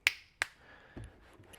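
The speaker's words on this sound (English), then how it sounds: "so you can snap your fingers, no problem" Two crisp, close finger snaps ring out a fraction of a second apart in a quiet room, followed by a faint soft knock.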